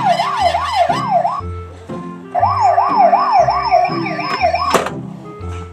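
Two bursts of wailing siren from a small black toy police car, each rising and falling rapidly, with electronic beeping tones and a thunk near the end, loud and close.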